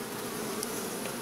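Honey bees droning steadily inside a hive around a queen during a failed queen replacement, a dense continuous buzz with no talk.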